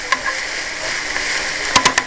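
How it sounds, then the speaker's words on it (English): Onions fry and get stirred in a pan while making quiche, a loud continuous sizzle with three sharp scraping knocks of the utensil near the end. "Stir up. Let the onions cook a little bit."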